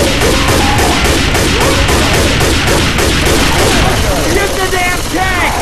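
Rapid bursts of automatic gunfire and shotgun blasts rattle on almost without pause during a four-versus-four Left 4 Dead 2 versus match on the Dark Carnival campaign, as players fight a Tank, with voices calling out underneath.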